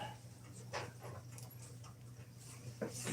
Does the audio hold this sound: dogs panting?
yes